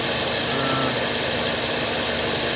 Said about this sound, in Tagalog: Ayan po yung compressor natin mga boss. So dapat kasama ng umiikot yan